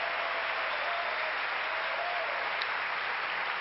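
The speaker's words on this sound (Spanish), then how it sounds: "Dele ese aplauso fuerte al que vive" A church congregation applauds during a Sunday service, a dense, steady wash of clapping that holds evenly throughout with no break.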